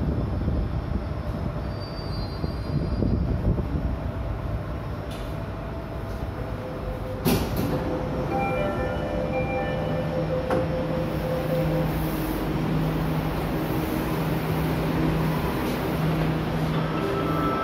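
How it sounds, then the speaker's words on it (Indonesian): MRT Jakarta metro train running, a loud steady rumble of wheels on track with a brief clank partway through and faint high tonal whines rising later. "Thank you for taking MRT Jakarta."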